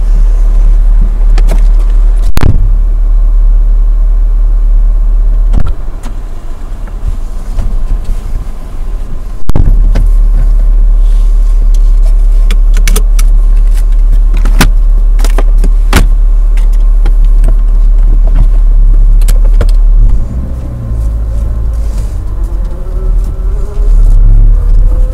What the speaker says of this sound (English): So my car is running at the moment.